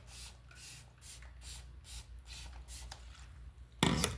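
A series of soft, short spray hisses onto epoxy resin repeat in a quick rhythm, followed by a louder burst of hissing at the end.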